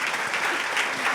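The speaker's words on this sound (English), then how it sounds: "Please give them a round of applause" Applause from a forum audience for the speakers at a Texas education event in San Antonio, a short steady burst of many hands clapping at moderate loudness with no voices over it.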